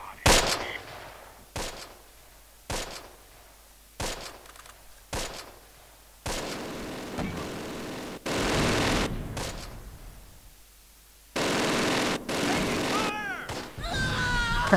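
Gunfire in the World War II tactical game Close Combat: repeated sharp shots and sustained bursts of machine-gun fire, some single cracks spaced apart and longer dense volleys, loud and close.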